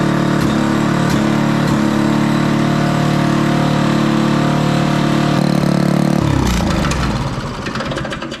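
Small gas engine of a Toro Power Clear 518 ZE snowblower running loud and steady at close range with a constant droning hum, then slowing and dying away near the end, with no talk.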